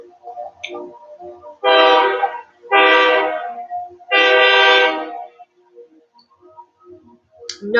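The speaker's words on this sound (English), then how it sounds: "It's just another train coming." A train horn blasts three long, loud times close by, with quieter rail clatter and faint ticking in the gaps between blasts.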